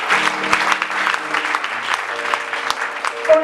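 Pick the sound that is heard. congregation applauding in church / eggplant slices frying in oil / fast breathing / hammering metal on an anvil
congregation applauding in church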